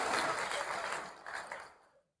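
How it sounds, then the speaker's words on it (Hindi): An audience claps at an Urdu poetry mushaira held at the Mysore Dasara exhibition ground, a dense wash of applause that dips midway, swells again, then quickly dies away to silence. "तालियां बजा दीजिए"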